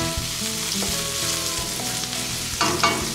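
Garlic sautéing in a hot pan, a steady loud sizzle and crackle that runs throughout, with a couple of sharper spatters near the end and no talking.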